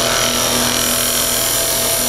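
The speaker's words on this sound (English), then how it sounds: "I'm going to use my homemade skew, like a scraper" Steady, loud scraping and humming of a homemade skew used as a scraper, cut straight into wood spinning on a lathe, with the motor's continuous drone beneath it and no talk.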